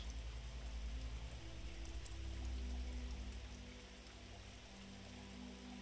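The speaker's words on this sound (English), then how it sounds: "with just the sound of the rain" Steady rain falls in a soft, unbroken hiss over a low rumble, continuous and evenly loud throughout with no voices.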